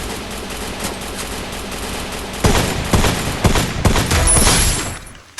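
Rapid bursts of automatic gunfire from a video game shooter, loud and dense, with volleys of shots rattling continuously before cutting off abruptly at the end.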